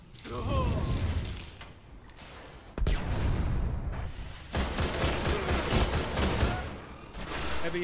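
Video-game firefight in Destiny's 25-1 Skirmish mission: dense bursts of gunfire and booming impacts come in waves over several seconds, loud and chaotic, with sharp cracks and whooshing shots layered throughout.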